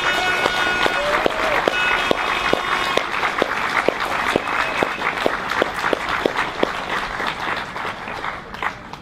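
A crowd at an outdoor Monday demonstration against the Stuttgart 21 rail project applauds, a dense patter of many hands with sharper individual claps standing out, sustained and fairly close, with a voice partly audible beneath.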